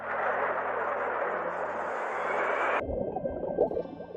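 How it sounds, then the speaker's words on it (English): A jet aircraft roars steadily with a broad, loud rushing engine noise that cuts off abruptly near the end, giving way to a softer, bubbling, watery texture. "J is for jet."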